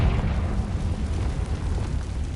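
A Confringo blasting spell explodes in Hogwarts Legacy, a dense, sustained roaring burst heavy in low rumble that holds loud and steady throughout, with no talking.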